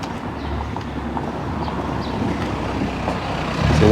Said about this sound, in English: I can hear a car coming, so I'll move to the side.